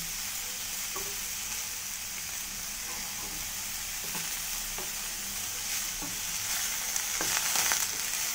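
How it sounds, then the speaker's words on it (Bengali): Soybean chunks and paneer fry in an oiled pan with a steady, close sizzle, broken by a few soft clinks of stirring and no voices. "সয়াবিনটা ভাজা হবে আর পনিরগুলো আমার এইদিকে ভাজা হয়ে গেছে"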